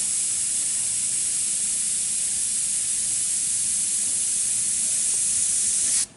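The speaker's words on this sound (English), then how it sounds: "I was just kind of wiggling the airbrush" Airbrush spraying paint, a continuous close, loud airy hiss held steadily for several seconds before cutting off abruptly near the end, with no voices.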